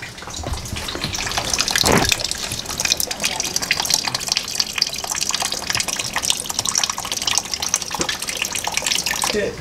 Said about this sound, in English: Flushing the old stuff out with water.